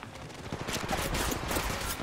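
Rapid bursts of gunfire in the Apex Legends Mobile game crackle in quick, uneven volleys, fairly faint and dense, with no talking over them.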